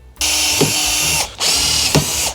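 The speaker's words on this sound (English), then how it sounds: "Why do you use the step drill to finish it? It gives me that nice chamfered edge." A step drill whines loudly through metal while fitting an oil cooler to a Toyota Altezza, in two sustained bursts separated by a brief pause, with a grinding mechanical edge, leaving a chamfered edge.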